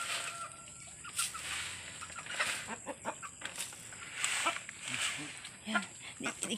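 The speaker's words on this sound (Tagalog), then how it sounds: "Lagay na namin ang start na kami maglagay ng mga manok sa loob" Chickens cluck and squawk in scattered bursts as they are placed inside a newly built coop on a rural farm, close and moderately loud, with people talking nearby.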